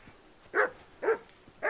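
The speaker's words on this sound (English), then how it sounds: "I assume you can hear that damn dog of yours barking." Three short dog barks from a dog in the video game Kingdom Come: Deliverance II, spaced about half a second apart, fairly loud and close with no talk over them.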